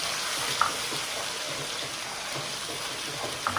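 Onion, garlic and ginger paste masala for chicken fries in oil with a broad, even hiss that holds steady throughout, plus a couple of faint utensil taps and no speech.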